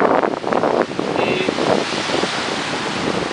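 Sea waves and wind on the Baltic coast in northern Poland, a steady loud roar of surf with heavy gusts buffeting the microphone.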